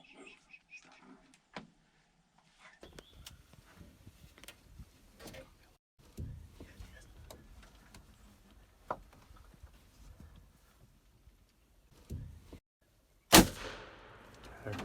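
A shotgun fires once during a Kentucky turkey hunt, a single sharp loud blast near the end after quiet rustling, creaks and soft movement sounds outdoors.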